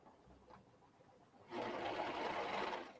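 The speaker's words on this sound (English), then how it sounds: "while I serge the edges here" A serger overlock machine stitching along fabric edges for placemats and napkins, starting after a quiet pause with a loud, fast, even whirring buzz that runs steadily for over a second before slowing.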